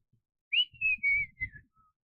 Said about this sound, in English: Probably not whistling into the microphone.